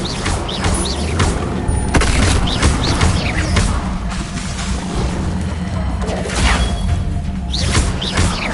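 Spells are cast in combat in Hogwarts Legacy, a busy run of whooshes, magical bursts and booming impacts over a dense game soundscape, fairly loud and irregular throughout.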